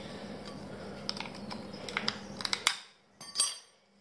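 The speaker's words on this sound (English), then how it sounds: "Just pop the shell like that." Spider crab shell being picked and popped away from the meat, with quick crisp clicks and cracks that build to a sharp snap, followed by a brief faint crackle, close and quiet.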